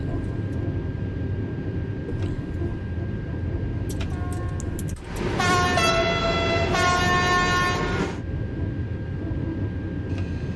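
A TGV Duplex double-deck high-speed train in Train Sim World 2 rolls into a station with a steady low rumble, and a bright horn tone sounds for a few seconds midway, fairly loud and close.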